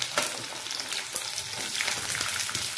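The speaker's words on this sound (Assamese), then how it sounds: "তেলটো অলপ গৰম হোৱাৰ লগে লগে ইয়াতে পিঁয়াজ দিছোঁ" Onions frying in hot mustard oil give a dense, bright crackling sizzle throughout, with light stirring scrapes mixed in, close and fairly loud.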